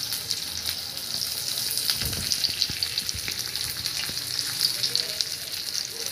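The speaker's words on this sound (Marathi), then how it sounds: "जसे आपण मच्छी तळतो तसं तळायचं आपल्याला" Stuffed bitter gourds fry in oil on a tawa over medium heat, a steady close sizzle running throughout with a few brief pops and crackles, no voices.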